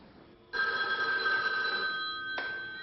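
A telephone ringing in a 1981 French television broadcast, one loud close electric bell ring that rings on for about two seconds and then fades.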